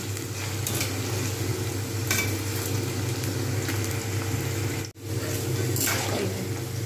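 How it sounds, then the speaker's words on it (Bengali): Potato slices fry crisp in oil, a steady close sizzle with the scrape and clatter of stirring and turning, briefly dipping silent once partway through. "ঠিক এইরকমভাবে এপিট ওপিট করে করে উল্টে উল্টে দেবো যেন পুড়ে না যায় অথচ ক্রিস্পি ভাজা হবে"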